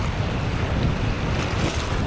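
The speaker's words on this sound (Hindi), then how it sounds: "वही मैं बताना चाह रहा था कि बढ़ गई है बहुत लहरें।" Sea waves surge and churn beneath a narrow bridge at the beach, a steady loud wash of water with strong wind buffeting the microphone and no voices.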